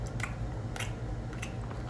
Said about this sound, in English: chewing noises.